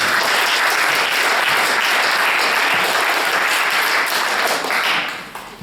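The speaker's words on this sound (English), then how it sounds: "So can we give a round of applause, please?" Loud, close applause from a crowd at a community collection launch, a thick continuous patter of clapping that holds steady and then starts to thin out in the final second.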